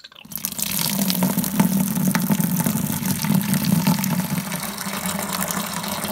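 A brewing wort cooling and filtration system runs steadily, hot wort flowing through it with a constant watery rush and a low pump hum, close and continuous with no talk.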